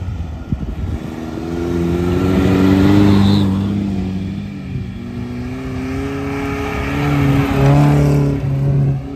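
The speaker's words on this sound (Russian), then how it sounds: "УАЗик обходит белку." A UAZ off-road vehicle racing in a trophy sprint, its engine droning and rising in pitch as it overtakes another car, loud and close with a second engine audible alongside.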